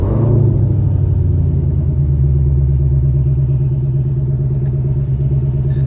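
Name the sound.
Ford Shelby GT500 Mustang engine starting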